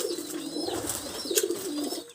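Pet pigeons in a home loft with their young coo in low, throaty, wavering calls, close and moderately loud, repeating through the moment with no talking.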